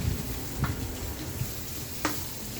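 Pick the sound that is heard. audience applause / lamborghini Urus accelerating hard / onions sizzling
onions sizzling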